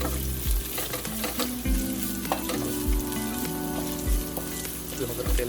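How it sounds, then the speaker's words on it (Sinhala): Ingredients for deviled chicken fry in hot oil with a loud, crackling sizzle, broken by repeated scraping and clanking strokes of a spoon stirring the pan at a steady rhythm. "ඊට පස්සේ අපි පොඩ්ඩක් මේක හොඳට බැඳ ගන්නවා. රන්වන් පාට වෙනකල්."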